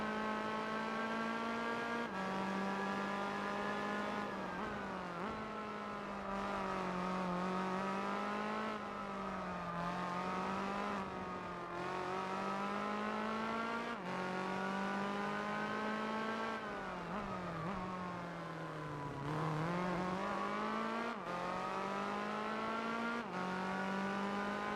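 A race car engine in the Gran Turismo 4 Spec II driving game, including a chasing Honda NSX, whines steadily and loudly, pitch climbing and dropping sharply with each gear change and braking, with no talk over it.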